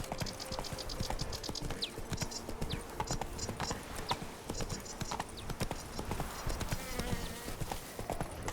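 Hooves of a horse clip-clopping at a trot in The Witcher 3: Blood and Wine, a quick, regular run of close hoof strikes with light jingling tack and faint game ambience.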